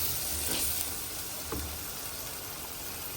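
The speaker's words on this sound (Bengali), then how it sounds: "মশলাটা কষা হোক।" Spice paste with turmeric and chilli sizzles as it fries in a pan for Baim fish curry, giving a steady, dense hiss throughout with a couple of soft stirring scrapes, close and continuous.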